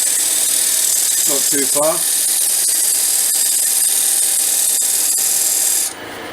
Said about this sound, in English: The parting gouge, and we'll just go in,